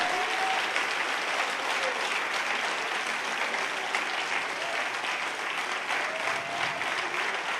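Church congregation applauds loudly and continuously, a sustained roar of many clapping hands filling the room, with a few voices faintly mixed in.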